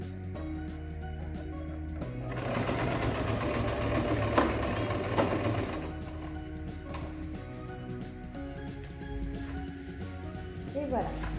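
A sewing machine stitches fabric for a small zip pouch, running in a steady rapid mechanical whir with a brief pause and restart, while someone speaks French over it.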